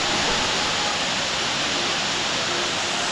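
A jungle waterfall in Bali roars as a dense, constant rush of falling water, loud and close, with no other sounds breaking through.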